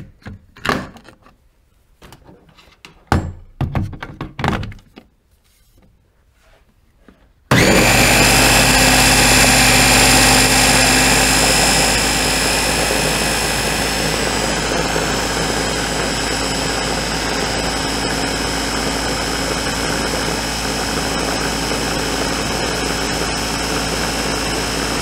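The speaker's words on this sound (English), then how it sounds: "Let's just give it a spin at this point." A Ninja blender spins hummus, starting with a few knocks and clatters and then roaring up suddenly into a loud, steady motor whir that runs for about seventeen seconds and eases off slightly toward the end.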